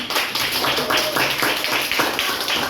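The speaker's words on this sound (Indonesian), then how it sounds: "Ibu kasih tepuk tangan buat kita semua, hebat-hebat." A class of pupils claps hands together, a busy patter of quick, overlapping claps at close range lasting a few seconds without pause.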